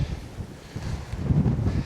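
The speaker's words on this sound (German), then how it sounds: "der Wind ist wirklich Katastrophe" Strong gusty wind buffets the microphone among German World War II bunker trenches, a steady low rumble that swells louder toward the end, with no talking.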